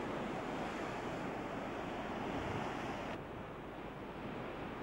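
Ocean waves wash against a steep coast of dark, black rock formations, a continuous broadband rush with wind buffeting the microphone, fairly constant before easing slightly near the end.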